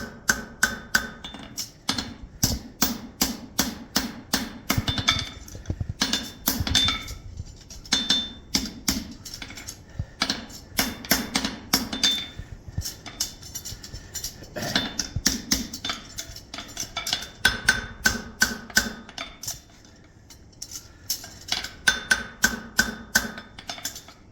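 Sharp ringing hammer blows on a steel anvil while a horseshoe is shaped into a left front shoe, struck in quick rhythmic bursts with brief pauses, loud and close with no talking.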